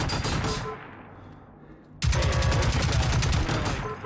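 Turret gunfire in the video game Generation Zero: a dense, loud burst of rapid automatic shots fades into a brief lull, then a second sustained volley erupts abruptly and keeps hammering close by.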